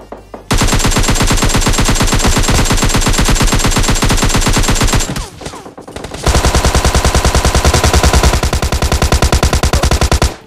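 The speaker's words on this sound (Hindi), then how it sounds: "गोली की आवाज सुनो।" Rapid automatic gunfire in the mobile game PUBG Mobile Lite: a long, very loud machine-gun burst, a short pause, then another sustained burst of fast, evenly spaced shots.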